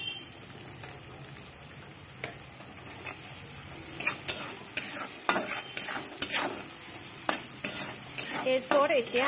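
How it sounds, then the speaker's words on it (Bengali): Onions fry with salt in a pan and are stirred, a soft continuous sizzle at first, then louder, sharper scraping and clattering strokes that come in an irregular rhythm over the second half. "পেঁয়াজ দিয়ে ভালো করে একটু নেড়ে চেড়ে নেব।"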